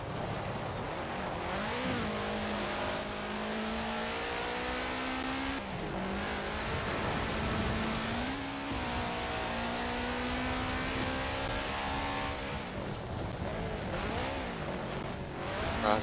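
A rally car engine revs and pulls hard under turbo boost, a dense, steady roar with rising and falling pitch sweeps as it shifts and accelerates, continuous and loud, with no talking.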